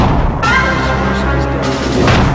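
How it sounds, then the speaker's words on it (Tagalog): Explosives detonated in an area far from houses during a fire disaster, a heavy sustained rumbling roar, loud and continuous, with a brief surge near the end. "Pinasabog na lang sa lugar malayo sa kabahayan ang mga explosives upang masabog."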